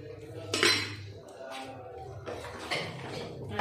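Paneer cubes go into a pot of dal makhani with a metal clink of utensils against the pot at the start, followed by softer stirring and dish sounds.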